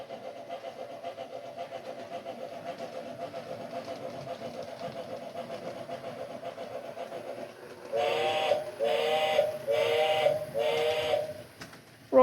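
A model locomotive on a test run: a steady hum of motor running gives way to four loud, repeated whistle blasts with short gaps, fairly close, no talk.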